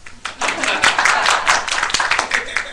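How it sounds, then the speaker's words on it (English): A short burst of applause from a social media panel audience, with many hands clapping steadily for a few seconds at moderate loudness. "Pause for applause."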